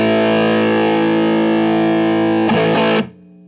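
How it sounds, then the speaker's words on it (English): A loud electric guitar chord rings through heavy fuzz distortion from an MXR Classic 108 Mini Fuzz pedal, sustaining thickly before a few choppy strums and a sudden stop. "turn the fuzz on"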